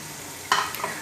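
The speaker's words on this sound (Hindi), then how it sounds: "मसालों को अच्छे तरीके से भूनते हैं।" Powdered spices, including garam masala and black pepper, frying in a pan for a potato and green chickpea curry: a brief burst of stirring and sizzle after a quiet start, close and moderately loud.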